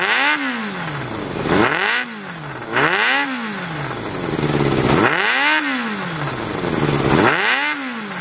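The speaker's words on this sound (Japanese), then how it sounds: "オーナー様がカスタムされたマフラーの音になりますね。" Air-cooled four-cylinder Yamaha XJR400 with a custom RPM-style aftermarket silencer, revved repeatedly in loud, close blips that rise and fall about once a second, with no talking.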